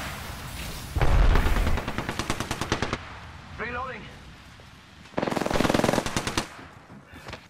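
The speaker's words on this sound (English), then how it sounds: "Shooting someone up here, and I saw a bullet fly." Two loud bursts of automatic rifle fire in the battle royale shooter Apex Legends, each a quick rhythmic string of shots lasting a couple of seconds. A short voice sits between the bursts.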